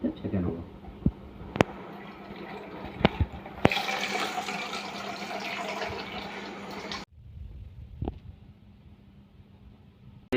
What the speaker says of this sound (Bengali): খুলে নেওয়ার পরে আমি একটা পাত্রের মধ্যে চাটা আস্তে আস্তে ছেঁকে নেব।